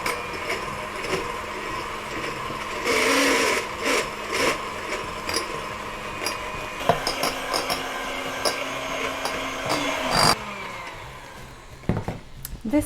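An electric mixer beats hot syrup into a brownie mixture, a steady whirring motor hum with rattling of beaters against the bowl, loud and close, shifting in pitch as it runs.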